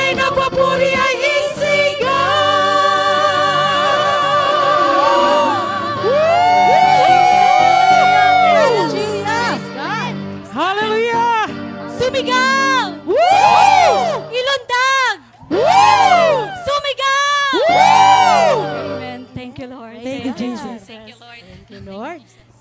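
A worship congregation at a Filipino healing service chants and shouts praise in loud, rhythmic bursts with sung phrases, voices rising and falling over music, with a leader's voice among the crowd.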